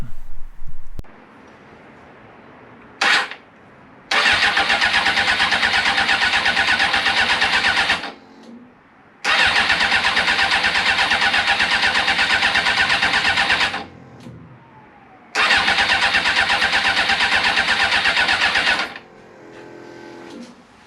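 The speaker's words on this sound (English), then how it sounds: "I might give it a go and see if I can start it." A 1996 Suzuki GSX-R 750 SRAD track bike with a fixed fuel leak cranks over in three loud, even bursts of several seconds each, separated by brief pauses.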